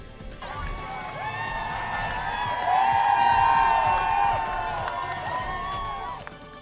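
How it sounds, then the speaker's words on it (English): A large outdoor crowd of armed protesters and supporters outside a drag show roars and shouts together, voices swelling and holding steady for several seconds, loud and dense. "that was a crowd of armed protesters and supporters gathering outside a Christmas drag show"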